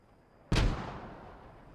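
A mortar smoke round from an Allied barrage lands in the World War II game Post Scriptum: one sudden, heavy boom that decays over about a second, after near silence.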